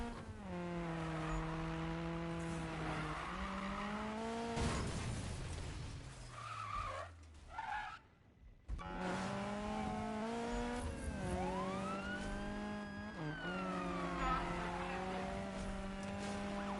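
Car tires skidding from the handbrake in a Need for Speed racing game, a loud droning engine broken by a harsh screeching slide, a brief drop-out, then the engine revving again.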